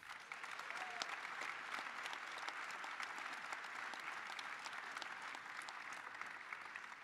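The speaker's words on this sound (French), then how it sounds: "On peut applaudir très chaleureusement Fabien Robert." A congress audience gives steady, warm applause at a political gathering, with dense continuous clapping heard from a distance at a fairly low level throughout.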